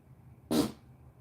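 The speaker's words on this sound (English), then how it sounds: "that was like a tuba fart" A single loud, brassy fart, low and buzzy like a tuba, erupts for a fraction of a second against a faint background hum.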